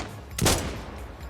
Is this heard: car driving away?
no